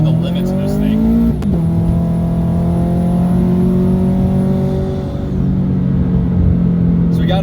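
Turbocharged Toyota FRS engine held at full throttle on a track, a loud steady drone with strong harmonics that dips briefly near the start and again toward the end, then picks back up.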